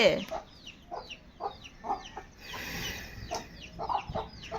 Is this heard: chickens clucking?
yes